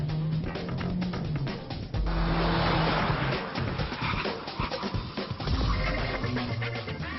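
A car brakes hard in a repeated braking-distance test, its brake discs heated by successive stops, giving a loud, continuous roar of rushing tire and road noise with harsh scraping surges that persist for several seconds.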